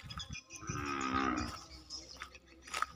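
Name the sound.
cows mooing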